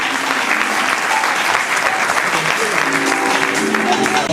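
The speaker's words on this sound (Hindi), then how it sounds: "तो हम जोरदार तालियों के साथ इनवाइट करते हैं श्री प्रदीप कुमार साहनी सर को।" Loud, dense audience applause fills a university event hall, continuous clapping from a large crowd sustained throughout.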